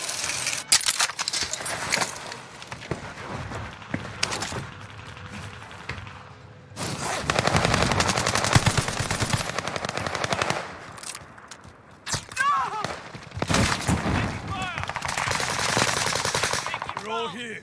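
Bursts of automatic machine-gun fire in a first-person shooter video game, rapid rattling volleys with brief gaps, mixed with game effects and thuds, loud and close throughout.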